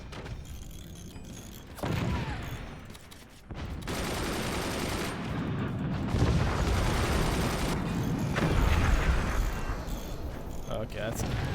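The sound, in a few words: AP sniper gunfire in Forts video game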